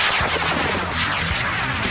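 A home-built amateur sport rocket launches with a loud, dense roaring blast, broadband and rumbling throughout its brief two seconds, heard close with no talking.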